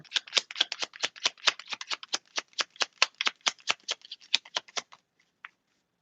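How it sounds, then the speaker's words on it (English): Rapid riffling of a deck of playing cards, a steady run of crisp flicks for about five seconds, then a single soft tap. "I guess I needed another shuffle."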